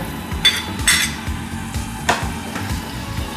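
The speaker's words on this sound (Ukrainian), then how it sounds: "і можемо помішувати ложкою" A spoon scrapes and stirs in a pan with a soft sizzle underneath, several distinct clinks and scrapes spread across the clip.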